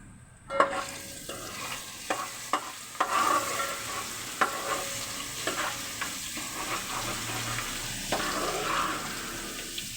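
Mixed chicken, about 1.5 kilos, frying in a handi pot, a soft continuous sizzle broken by repeated scrapes and clanks of a spoon stirring the meat against the metal.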